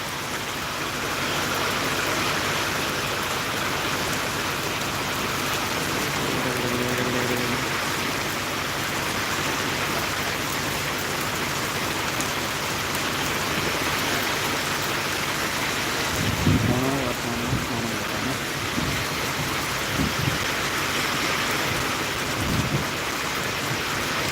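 Heavy rain pours steadily in a Tamil village, a dense continuous hiss filling the scene at close range, with a few brief low rumbles and knocks partway through and no voices.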